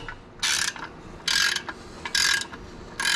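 A ratchet snugs clutch pressure plate bolts on a Camaro with a T56 transmission, in four loud bursts of rapid clicking separated by short pauses, close up.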